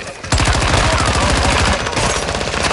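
Rapid automatic gunfire in Modern Warfare 2, a loud, dense burst of closely spaced shots that starts abruptly and continues almost unbroken to the end.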